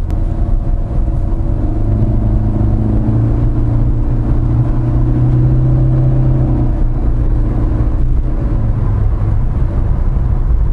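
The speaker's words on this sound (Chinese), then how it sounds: "就是调高转速来让你的车有更好的扭力" A 2022 Proton Iriz Active with a Punch CVT gives a loud, steady engine drone with a low whirring hum that holds almost unchanged from start to finish.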